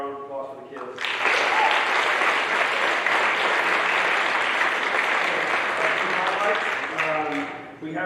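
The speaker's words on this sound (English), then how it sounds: "How about a round of applause for the kids?" Students and staff at a high school fall sports assembly break into dense, loud applause for the athletes, sustained for about six seconds, with a voice speaking briefly just before and after.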